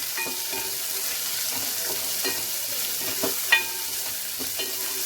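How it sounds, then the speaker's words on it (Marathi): Garlic sautéing in a pan for dal, a steady broadband sizzle with repeated scraping stir strokes and small clinks, close and moderately loud, no talking. "कोथिंबीर आपण थोडी नंतर घालूया आणि हे परतून घ्या."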